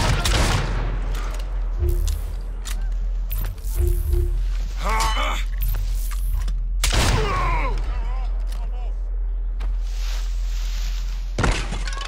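Gunfire goes off in Assassin's Creed Syndicate as a few sharp, loud shots and booms crack out at intervals amid game ambience, with voices talking between them.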